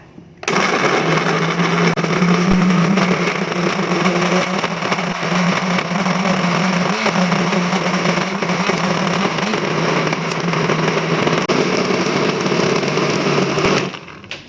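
Kitchen blender grinding chilies, garlic, shallots, ginger, galangal and turmeric into a rendang spice paste, a loud continuous whirring motor that starts abruptly, runs steadily for about thirteen seconds, then stops.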